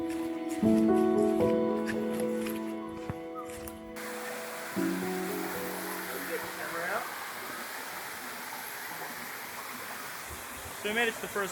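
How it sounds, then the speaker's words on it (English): Rushing waterfall on the Albert River, a steady broadband roar of falling water that swells after a brief burst of music, continuing evenly with a few faint bird calls over it. "So we made it to the first waterfall and it's looking pretty nice."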